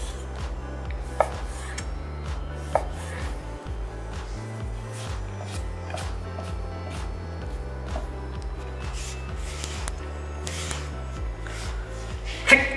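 Knife chopping thick homemade bakmi noodle dough on a board, a steady run of close, sharp cuts and knocks with a faint kitchen hum underneath.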